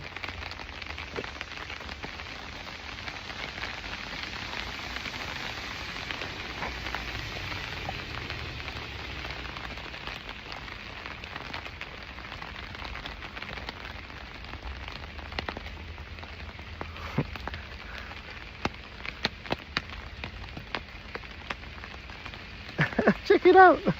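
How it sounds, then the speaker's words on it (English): Steady patter of raindrops falling around a sheltered spot near the Jozankei hot-spring area in Japan, a constant wash of drips, with a few sharper close drops building toward the end and no talking. "Listen, I'm gonna shut up so you can hear the raindrops."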